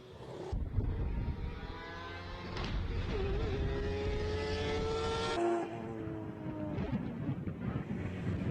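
Mazda RX-7 with a 20B rotary engine climbing a hillclimb course, its high, buzzing engine note rising through the gears with clear shifts, heard from a distance with wind across the microphone.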